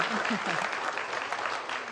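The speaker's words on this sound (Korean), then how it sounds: "다시 한번 큰 박수로 감사의 표시 드리도록 하겠습니다" Dense, steady applause from an audience of students at the close of a Korean math lecture, filling the whole moment at an even level with a faint murmur of voices underneath.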